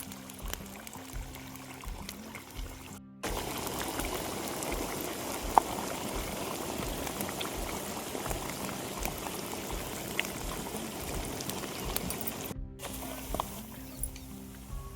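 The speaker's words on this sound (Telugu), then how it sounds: "ఇలా ఉడుకుతున్న ఆయిల్ ఎంతసేపు ఉడకాలి ఎంత డిగ్రీస్లో ఉడకాలి" Homemade hair oil boils in a pot with a dense, bubbling, crackling seethe that rises sharply after a brief cut and holds steady, fairly faint and close, ending with a quieter stretch.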